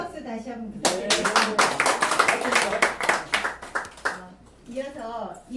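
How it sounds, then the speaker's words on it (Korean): An audience at an opening ceremony for a speech and small-business management course claps steadily for several seconds, bright dense applause that begins after a spoken announcement and fades as talking resumes. "큰 박수 다시 한번 부탁드립니다."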